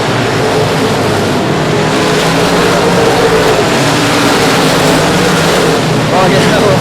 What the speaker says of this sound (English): Shane Hebert driving the car deep off into the corner